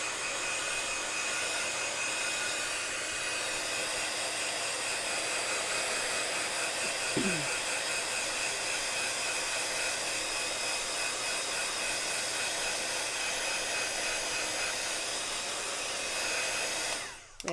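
A hair dryer blows steadily on damp watercolor paper, a loud continuous whooshing hum that runs unbroken for well over fifteen seconds before cutting off abruptly at the end.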